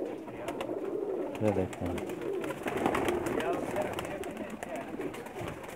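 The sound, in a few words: pigeons cooing on a rooftop loft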